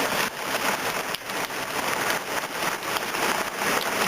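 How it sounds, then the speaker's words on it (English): Steady rain pouring into a dug foundation trench, an even close-up wash of patter and hiss that swells and dips slightly, with no speech over it. "It's going to be raining all day,"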